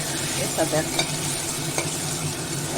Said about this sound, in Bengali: পেস্টটা দিয়ে দিলাম দিয়ে একটু ভেজে নেব বা কষিয়ে নেব